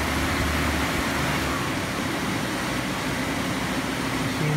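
A 2005 Daewoo Puma 240LC CNC lathe runs at 1200 RPM, a steady even machine hum and broadband whir with no distinct knocks, heard alone at moderate level.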